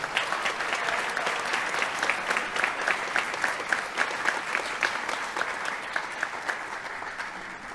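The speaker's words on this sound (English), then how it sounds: "Let's give one more round of applause for our student athletes" A crowd at a high school athletic awards ceremony gives a sustained round of applause for student athletes, dense steady clapping with scattered sharper claps, loud and continuous for nearly eight seconds.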